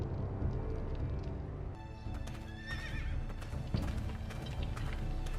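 A horse whinnies in the Telltale Game of Thrones video game, a loud wavering neigh over steady hooves clip-clopping and low rumbling background, close by.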